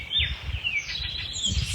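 Bird calls chirping during a spring yoga session, several brief high chirps and trills over a steady low background hum, faint and somewhat distant.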